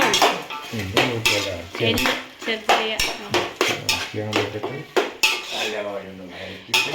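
Chicken pieces go into a large pot of wedding-style chicken biryani with loud metallic clanks of a ladle against the pot, repeated scraping and stirring in quick irregular rhythm, close up, with faint sizzling beneath.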